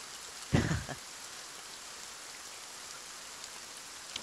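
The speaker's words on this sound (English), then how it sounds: "Thus the rain falls." Rain falling in the video game Kingdom: Two Crowns, a soft steady hiss throughout with one brief louder thump near the start, fairly faint and without voices.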